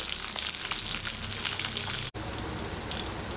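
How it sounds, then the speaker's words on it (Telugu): Dried red and green chillies frying with curry leaves in hot oil, a steady loud crackling sizzle with dense spitting pops, continuous apart from a brief dropout partway through. "కొన్ని ఎండుమిర్చి పచ్చిమిర్చి వాటితో పాటుగానే కాసింత కరివేపాకు వేసుకొని వీటిని వేగనివ్వాలి"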